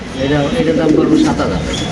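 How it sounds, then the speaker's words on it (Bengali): Pigeons coo close by in soft, low, rolling warbles that repeat steadily, with people talking over them. "কৌতরা ডাকটা একটু দেখাই দিই"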